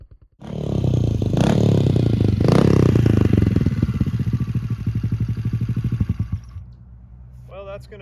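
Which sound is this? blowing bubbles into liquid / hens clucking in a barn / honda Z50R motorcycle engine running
honda Z50R motorcycle engine running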